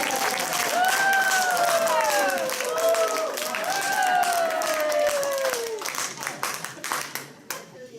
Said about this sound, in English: I always enjoy applause.